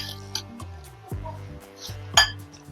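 Utensil clinking against a bowl while ingredients are stirred together in a home kitchen, with a few light, sharp taps and scrapes spread over a couple of seconds under background music.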